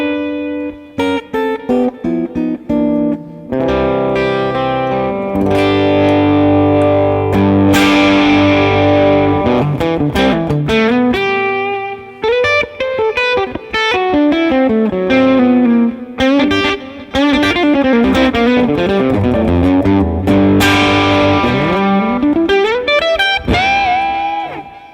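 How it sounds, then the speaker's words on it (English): An Ibanez AR520 electric guitar played through a Fractal AM4 effects unit, with distorted, sustained chords and bending lead lines, loud and close, with no talking. "Guitar does sound different than that other guitar though"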